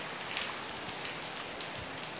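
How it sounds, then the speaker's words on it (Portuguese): Heavy rain in western Bahia, Brazil, pours steadily as a dense, even hiss of drops striking surfaces, heard from indoors with occasional louder individual splats. "está dando aí para vocês pegar aí uma boa parte, né, da chuva aqui no oeste da Bahia."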